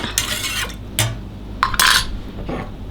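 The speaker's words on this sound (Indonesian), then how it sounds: "kita tambahkan garam, kaldu bubuk dan bawang putih yang sudah dihaluskan kita aduk rata" Spoon scraping and clinking in a bowl as salt, broth powder and ground garlic are stirred into a mixture, several uneven strokes with sharper knocks toward the end, close and fairly loud.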